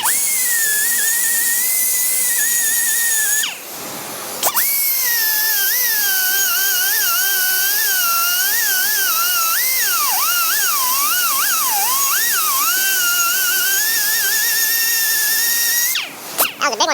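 Shrill, wavering high-pitched whine of a grinder cutting off protruding metal, loud and close and sustained for long stretches, briefly broken by a short drop in the middle and cutting out near the end.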